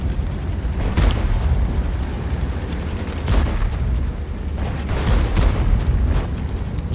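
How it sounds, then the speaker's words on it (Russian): Heavy tank cannon shots and explosions in a tank video game featuring the Sturmtiger, with several deep booms over a constant low battlefield rumble. "смотри, пацаны, как отстреливают тут жестко"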